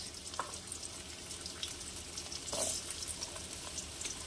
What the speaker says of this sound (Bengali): এটাকে হালকা ফ্রাই করব